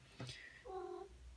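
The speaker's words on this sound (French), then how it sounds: "Il y a mon chat, il fait du bruit." A pet cat meows indoors, two short quiet calls in quick succession, the second a longer drawn-out tone, close but faint.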